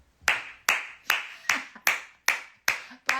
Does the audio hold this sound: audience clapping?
yes